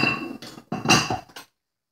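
A spoon stirs sugar into a cup of coffee, giving a few close, bright clinks against the cup over about a second and a half, then silence.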